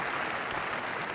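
Broad, dense applause from a tennis crowd at Queen's Club in 2008, a short steady wash of clapping with no talk.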